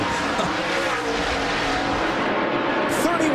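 NASCAR race cars racing on the Bristol half-mile short track, a loud dense engine roar with passing cars and brief tire noise, under excited commentary.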